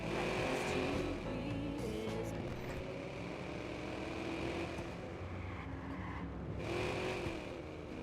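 A continuous car engine drone from the game Watch Dogs, with shifting revs and a faint high whine, steady and fairly loud throughout with no voices.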